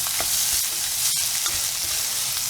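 Ginger garlic paste sizzling with onions in a hot pan while cooking chicken kothu curry, a steady close-up frying hiss with occasional stirring scrapes, no voices.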